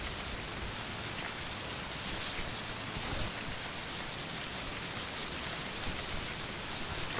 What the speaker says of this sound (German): Da haben wir Regen.